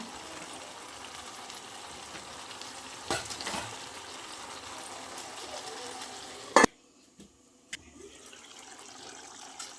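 Steady low sizzle of chicken cooking in its own released water in a pan, with a couple of clattering knocks before the sound drops away to near quiet.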